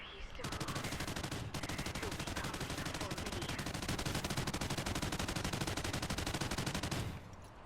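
Sustained rapid automatic gunfire aimed at a rhino in Call of Duty Ghosts Extinction, a dense, loud rattle of shots running nearly unbroken for several seconds with a brief gap early on.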